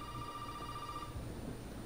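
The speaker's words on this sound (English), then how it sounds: "The phone. The phone's ringing." Telephone ringing in the video game Resident Evil 7, one faint electronic ring tone that sounds briefly and fades out over a low background hum.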